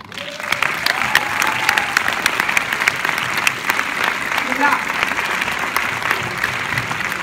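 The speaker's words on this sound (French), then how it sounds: "On peut applaudir Alain Attal." A packed cinema audience at a Strasbourg premiere of the film Gangsterdam bursts into sustained, dense applause for producer Alain Attal, a steady roar of clapping with scattered cheers running the whole stretch.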